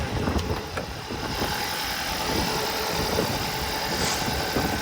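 A 2016 Kia Sorento's 2.4 GDI engine idles steadily nearby, a low rumbling drone with a faint rhythmic ticking, no voices over it.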